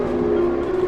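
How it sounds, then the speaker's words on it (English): Train arrival jingle from the video game Trainslation, sampled from Tokyo train station sounds, heard as a brief, steady tonal chime held for under a second. "The most mechanically important piece of sound we added to the game was the train jingle."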